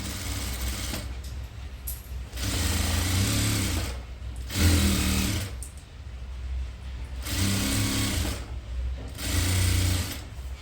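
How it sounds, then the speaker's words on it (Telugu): A sewing machine stitches a sleeve onto a long frilled dress with a 1 cm seam, running in four loud, close bursts of rapid needle chatter separated by brief pauses. "చూడండి ఇలా స్లీవ్ తీసుకొని నీట్గా 1 cmకి స్టిచ్ చేసుకునేయండి."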